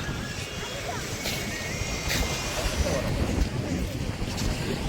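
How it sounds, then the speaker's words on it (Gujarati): Wind gusts and buffets against the microphone outdoors on the seashore at Diu, with a steady rushing roar. "દરિયાનો કાંઠો છે"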